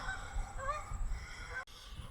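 Geese honk overhead beside a roadside stop on a motorcycle ride, a few faint, wavering calls over low wind and ambient rumble before the sound cuts off abruptly.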